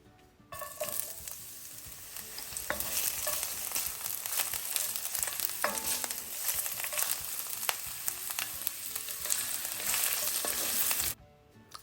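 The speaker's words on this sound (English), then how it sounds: "So I went ahead and I sauteed one purple onion" Purple onion sautés in a little oil in a pot, with a continuous close sizzle broken by frequent spoon scrapes and taps that stops abruptly at the end, and no talking.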